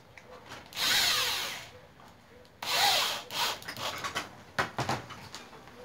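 A power drill drives large screws while a football goalpost is built, with two long whirring bursts followed by several shorter spurts, close and loud.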